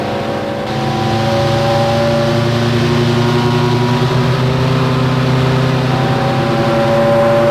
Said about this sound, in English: You can hear that engine roaring away.